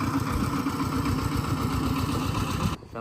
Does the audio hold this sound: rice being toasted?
no